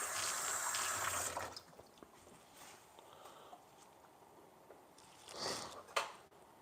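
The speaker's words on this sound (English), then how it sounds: "I'm just rinsing this out here." Spinach rinsed under a running kitchen tap, a soft water stream that is strongest at first and then fades to a faint trickle, with a few small splashes and handling noises near the end.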